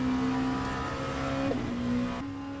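Engine of an LMP2 prototype race car in the Le Mans Ultimate racing game, a steady loud droning tone that dips as the car brakes into a corner and picks back up with throttle, with no voices.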